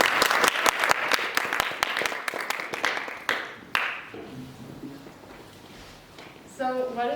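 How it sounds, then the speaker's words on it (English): An audience at a talk event gives a round of applause for a new presenter, a crowd of hands clapping steadily for several seconds, then tapering off into room noise and a brief voice. "Let's give a nice round of applause"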